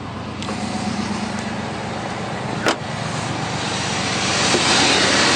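A restored car with a resealed engine top end runs steadily after starting, a smooth continuous engine drone close by with one brief sharp click partway through.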